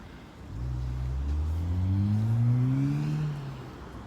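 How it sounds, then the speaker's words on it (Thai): A car passes on a road in cold, lightly snowy weather, its engine rising in pitch as it accelerates by, fairly close and steady for a few seconds before fading. "รถเยอะค่ะวันนี้รถเยอะ"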